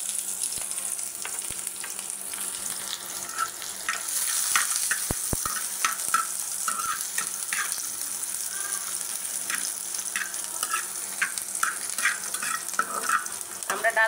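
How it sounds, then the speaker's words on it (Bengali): Chopped onion and garlic frying in hot oil with dried red chilies, a continuous loud sizzle with frequent small crackles and the occasional scrape of stirring. "তো এখন আমি দিয়ে দিব পেঁয়াজ কুচি আর রসুন কুচি দিলাম।"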